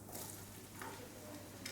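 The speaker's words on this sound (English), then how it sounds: "I always begin with frying the onions." Onions frying in oil in a cooking pot while making fried rice, a steady soft sizzle with faint stirring scrapes, close and continuous with no talk.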